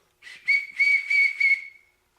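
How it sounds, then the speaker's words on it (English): A small whistle, likened to a wiener whistle, blows in short bursts of a high, steady tone, up close and clear with no talk. "Kind of like one of those wiener whistles."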